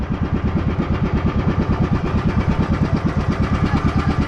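A passenger boat's motor chugs loudly and steadily up close, its rapid, even pulsing throb filling the scene with no voices.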